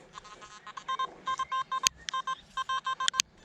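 A metal detector sweeping over a trash-filled playground gives a dense cacophony of rapid electronic beeps and tones in quick repeated bursts, with a few sharper clicks mixed in.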